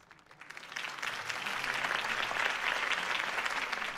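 A crowd breaks into applause at Harvey Dent's campaign rally in the Batman Telltale video game, the clapping swelling from quiet to a full, dense roar that holds steady to the end.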